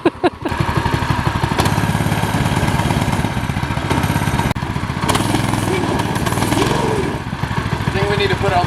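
Free go-kart engine, run for the first time in 10 years, starts up and runs loud and close with a steady chugging putter, dipping briefly partway through, while a voice talks over it.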